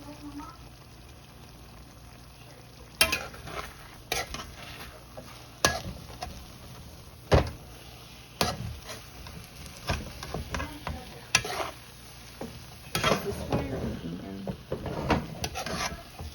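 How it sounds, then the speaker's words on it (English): Spanish yellow rice is turned in a pot as it cooks, giving soft scraping and stirring strokes with occasional sharper knocks of a utensil against the pot over a low sizzle; a voice speaks intermittently. "the rice is ready to be turned, and you're gonna lower your heat to low"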